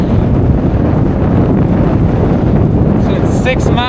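Wind blowing against a cyclist on a long-distance road ride: steady, loud buffeting rumble across the microphone that lasts the whole time, with no speech.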